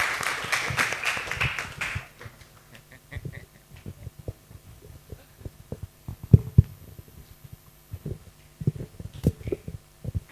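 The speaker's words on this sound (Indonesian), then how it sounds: "Kita beri tepuk tangan untuk Dr. Prayitno." An audience applauds for a guest speaker at a university talk. A burst of clapping in the first two seconds fades to scattered claps, then gives way to thumps and handling noise.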